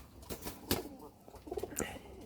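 Wild Jalali pigeons give faint, quiet coos mixed with a few soft wing flaps and rustles over about two seconds.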